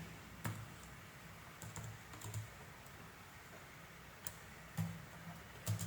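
Quiet typing on a computer keyboard while writing a code comment, irregular clusters of soft key clicks with short pauses between them and no speech.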